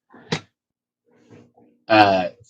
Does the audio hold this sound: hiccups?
no